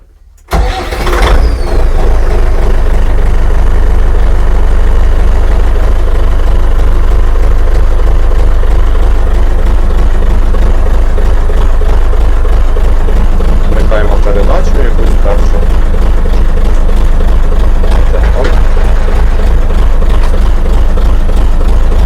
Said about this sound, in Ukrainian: Трактор готовий до запуску.